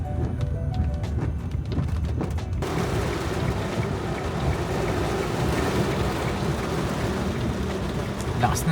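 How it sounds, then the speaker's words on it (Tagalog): Heavy rain pours down steadily in a dense, loud wash that fills the whole clip, sounding close and continuous, with a few brief voices in the first moments. "Lakas na ng ulan."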